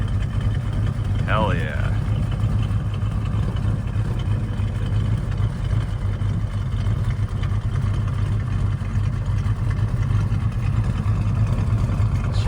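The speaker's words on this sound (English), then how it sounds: "Just adjusted the idle a little bit. It was about 1100 before, about 850 now." A 1971 Dodge Super Bee muscle car idles close by after an idle adjustment, its V8 engine giving a steady, loud, choppy rumble throughout, with a short excited exclamation from a man near the start.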